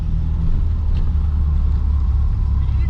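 A Stage 3 big-turbo VW Polo with no intercooler accelerates in second gear, producing a loud, close engine rumble that builds steadily with no talking.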